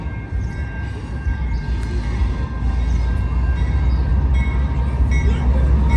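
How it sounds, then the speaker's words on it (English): A southbound CSX train rumbles steadily past at close range down the middle of Main Street, a low continuous roar with clanking, growing slightly louder, with faint voices, music and street noise around it. "Got another train coming. Look at this. Southbound train. Right in the middle of Main Street."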